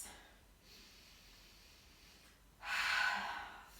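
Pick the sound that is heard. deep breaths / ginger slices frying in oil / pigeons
deep breaths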